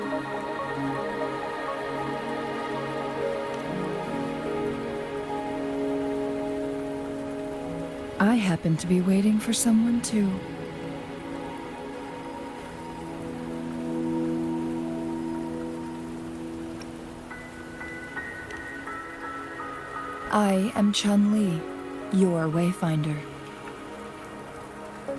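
Rain falling in the video game Wuthering Waves, a continuous even patter that runs throughout beneath sustained musical tones, while characters talk over it in two spoken passages.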